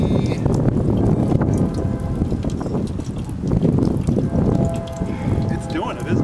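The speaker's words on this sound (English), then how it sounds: "even though the wind is blowing" Wind blowing steadily outdoors beside a Lorenz water wheel, with broadband wind buffeting the microphone and faint trickling water underneath for the full length.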